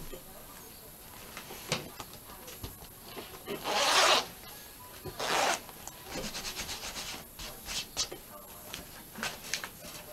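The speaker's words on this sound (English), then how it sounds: "Replace the old broken zipper." A newly installed replacement zipper on clothing is zipped in a few brisk rasping pulls, two louder strokes standing out amid lighter rubbing and handling noises, close up with no talking.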